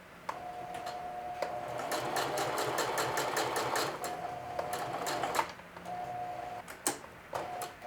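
A sewing machine stitches a watch pocket onto a denim shield, running in bursts of rapid needle clatter with short pauses and clicks between them, close and moderately loud, with no speech.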